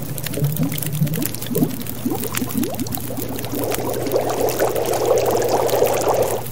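Water being boiled over a fire in the survival video game The Long Dark, a steady bubbling and pouring-like liquid texture that swells louder in the second half, heard alone without talk over a low hum.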